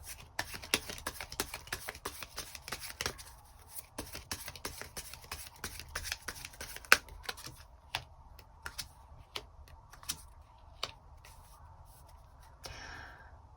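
Tarot cards are shuffled and handled, giving quick, dry clicks and flicks in irregular bursts, dense at first and then more sparse, fairly quiet and close, with a soft rustle near the end and no speech.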